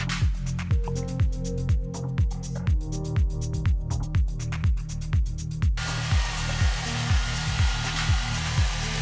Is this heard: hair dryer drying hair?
yes